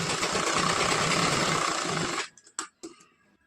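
Sewing machine running fast as it stitches the folded lining edge of a katori blouse, a dense steady mechanical whir for about two seconds, then stopping with a few sharp clicks and taps.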